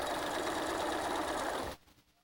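Sewing machine running steadily while joining rows of a lap quilt, a continuous close whirring hum that stops abruptly near the end.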